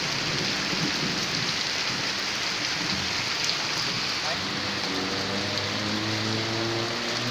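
Heavy rain pours steadily in Ciamis during a windy thunderstorm, a dense continuous hiss of drops on surfaces with low rumbling underneath, and a faint voice briefly audible under the downpour.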